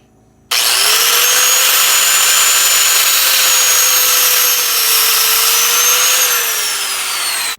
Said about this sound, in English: I'm just gonna cut that with the angle grinder, nice and slow, and hopefully it works